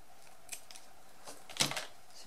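Scissors snip through pompom yarn in a few quick, quiet cuts, the clearest near the end. The cuts sound close over a faint background.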